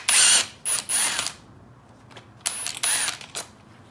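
Power tool undoing bolts on a Yamaha YFZ450 quad during teardown: two loud bursts of whirring drill-like spinning, each a few short pulses with ratcheting clicks, close up with no talk.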